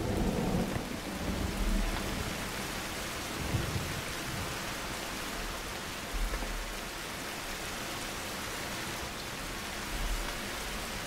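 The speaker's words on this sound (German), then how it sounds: "Ah, Gewitter" A thunderstorm in a survival video game: steady heavy rain hisses throughout while low rumbles of thunder roll in and out, with no talking.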